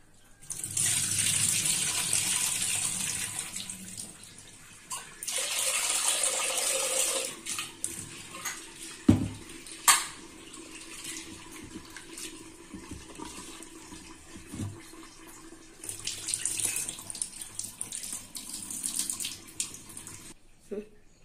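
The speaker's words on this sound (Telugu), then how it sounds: "ముందు శుభ్రంగా 2-3 సార్లు కడుక్కోవాలండి పప్పుని." Tap water running hard into a vessel as lentils are washed for pappulsu, with two long bursts of gushing flow, a clatter and splash midway, then quieter swishing before the stream returns, close and fairly loud.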